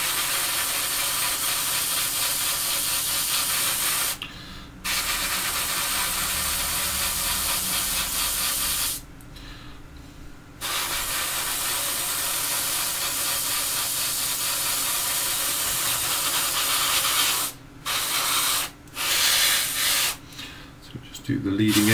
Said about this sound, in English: when you're spraying black neat, you can do it in one pass